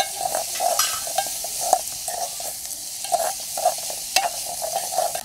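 A spoon scrapes and stirs a tempering of turmeric, asafoetida and rock salt in a hot pan for raw mango rasam, with soft rhythmic scrapes over a steady frying sizzle.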